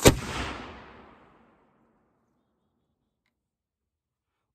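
A black powder flintlock rifle fires once outdoors, a single loud boom with a crackling tail that fades over about a second, followed by silence.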